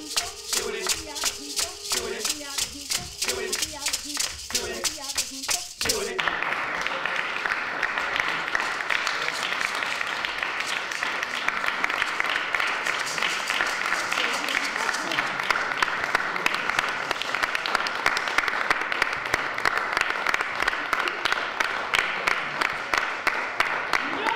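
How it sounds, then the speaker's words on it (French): An audience applauds a storytelling performance, starting with rhythmic clapping in time over music and voices, then breaking into a long, thick, steady wave of applause. "Merci beaucoup pour tous ces applaudissements"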